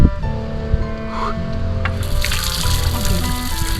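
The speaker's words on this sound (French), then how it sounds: "On a trouvé quand même à l'extérieur une douche" Water from a cold outdoor shower runs and splashes steadily for a few seconds, a broad hissing spray that grows fuller partway through, with faint background murmur.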